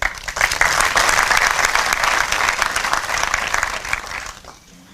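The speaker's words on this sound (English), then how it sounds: "give yourself a round of applause." An audience at an evening event bursts into loud, full applause that holds steady for several seconds, then thins and fades out near the end.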